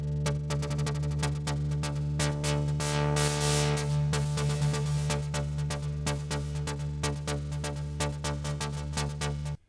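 A steady rhythmic pattern of sharp repeated hits over a sustained low tone in Ableton Live 10, each hit trailed by delay repeats that blur together and ease off slightly.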